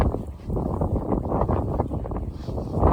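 Strong wind in Japan buffets the microphone in heavy, rumbling gusts that stay loud throughout the few seconds.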